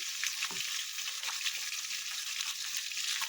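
Tilapia fish frying in a pan crackles and sizzles steadily at close range, with a few small pops and stirring scrapes and no talk over it.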